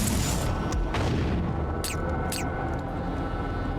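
An object is blown apart in Deus Ex Invisible War with a heavy, sustained boom, a dense roar of rumbling destruction filling the moment, with brief sharp crackles breaking through.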